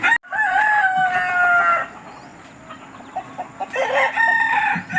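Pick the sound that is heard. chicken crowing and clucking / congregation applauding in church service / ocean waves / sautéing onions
chicken crowing and clucking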